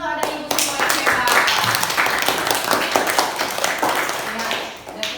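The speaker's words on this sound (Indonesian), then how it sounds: "Ayo tepuk tangan untuk ada ibu semua yang hebat." Classroom applause during an in-service teaching performance lesson on plant parts in Indonesia, steady clapping from a group sustained over several seconds with children's voices mixed in.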